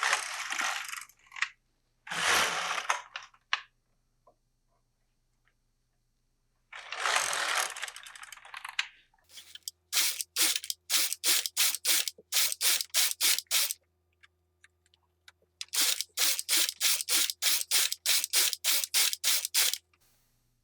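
Domestic knitting machine carriage pushed back and forth across the needle bed with claw weights hung on the edges, giving loud sweeping whooshes followed by two long runs of rapid, evenly spaced mechanical clacks.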